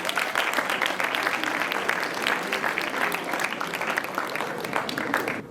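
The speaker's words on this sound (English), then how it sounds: "Can we give them a round of applause?" An audience claps enthusiastically for several seconds, a dense steady patter of many hands that tapers slightly at the end.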